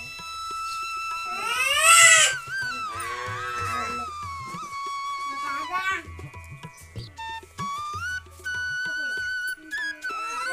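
A cat meows repeatedly in a home during a Durga Kanya Bhoj puja, its high drawn-out cries loud and close near the start, then continuing more intermittently over background activity and voices.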